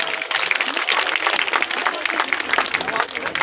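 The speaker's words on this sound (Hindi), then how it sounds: "तालियां होनी चाहिए।" An audience at an office inauguration event applauds in a dense, steady wash of clapping from many hands that holds at even loudness throughout.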